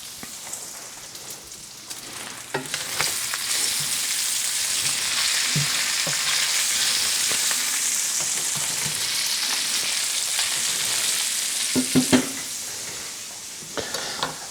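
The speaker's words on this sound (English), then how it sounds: "I'm going to render down the salt pork in a pan until the pork is brown and crunchy." Salt pork and onions frying in a pan for fisherman's brewis, a steady close sizzle and crackle with occasional stirring scrapes and spatters throughout.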